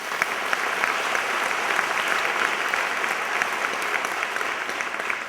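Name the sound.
applause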